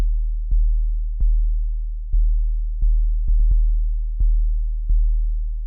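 808 bass patch built in the Serum synthesizer with decay set near 2, struck as eight deep sine-like booms in an uneven rhythm, each with a short click at the attack and a long fading low tail.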